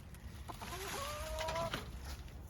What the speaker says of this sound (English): look at those gorgeous chickens